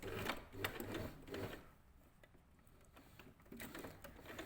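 A sewing machine reverse-stitches over a seam on a pair of summer shorts, with short bursts of rapid mechanical stitching separated by pauses, close and fairly quiet.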